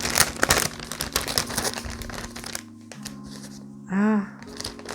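Plastic packaging of a Halloween spider web decoration with four spiders being torn open, a loud burst of crinkling and crackling at first, then quieter rustling, with a brief voice partway through.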